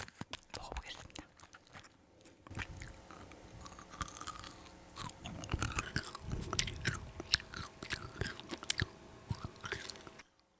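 Frozen kohakutō jelly being bitten and chewed up close in a quiet room, giving soft wet crunches and squishy mastication in irregular bursts, with faint whispering now and then between mouthfuls.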